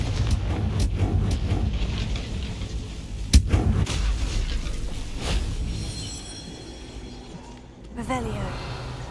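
A Confringo fire spell from Hogwarts Legacy goes off as one sharp, loud blast, trailed by rumbling game ambience and smaller bursts, with a voice speaking over parts of it.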